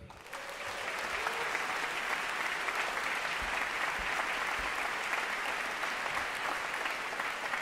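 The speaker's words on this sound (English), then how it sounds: "I want you guys to put your round of applause for these gentlemen." At a Latin jazz concert, a crowd bursts into loud, continuous applause for the musicians, with thick, steady clapping holding for several seconds.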